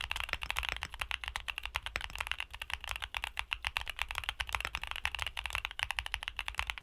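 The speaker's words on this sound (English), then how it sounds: "here's the sound test for the Morandis." Dense, rapid typing on a mechanical keyboard fitted with WS Morandi switches, a steady stream of close, muted clacks and thocks with no pauses and no voices.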